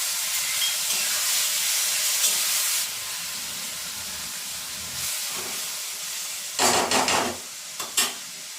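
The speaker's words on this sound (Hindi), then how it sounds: "इधर अपना मसाला भून रहा है" Tomato masala with mushrooms sizzles and fries in a pan, a steady close hiss with occasional stirring scrapes and a few louder clatters toward the end.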